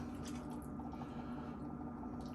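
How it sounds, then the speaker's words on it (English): Whole milk pours into a Lodge cast iron skillet of sausage gravy, a soft, faint liquid trickle and gentle bubbling under a steady low hum, continuous and close. "Pour your milk right in there in the pan."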